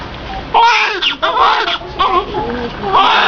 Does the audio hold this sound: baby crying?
yes